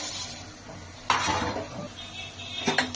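Horse gram (kollu) is being dry-roasted and stirred in a pan for a homemade health-mix flour. The clip has a soft, continuous rustle of grains with two sharper scraping clinks of the spoon against the pan, close by and with no talk.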